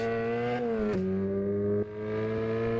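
A Volkswagen Golf engine in a racing simulator holds a steady, buzzing drone at fairly constant revs. The pitch dips slightly and then settles, the sound staying continuous and close throughout.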